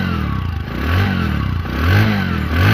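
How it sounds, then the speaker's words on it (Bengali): A used 100cc motorcycle engine idles close by and revs up twice in smooth rising and falling swells, loud and alone. "বাইকটির সাউন্ড যদি আমি আপনাদেরকে দেখাই দেখুন"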